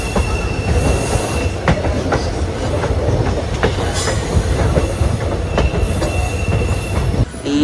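Train running on the 120-year-old Kollam to Aryankavu railway in Kerala, heard from on board: a loud, continuous rumble with rhythmic clickety-clack of wheels over rail joints and occasional high wheel squeals, no talk.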